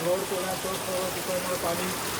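Heavy monsoon rain in a Konkan village falls steadily and close by, a dense continuous patter of drops on surfaces, with faint voices underneath.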